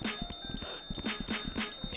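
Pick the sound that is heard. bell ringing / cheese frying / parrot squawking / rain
bell ringing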